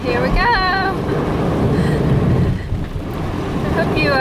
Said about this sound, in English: my mom is trying to, I guess, flood her engine for the sake of the vlog